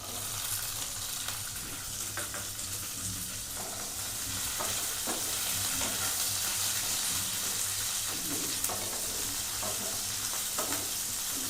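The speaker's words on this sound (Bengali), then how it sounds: "রসুনটা হালকা ফ্রাই হতে হতে আমরা দিয়ে দেবো পেঁয়াজটা।" Garlic and onion frying in a pan for South Indian sambar, a steady close sizzle with occasional stirring scrapes throughout, no talking.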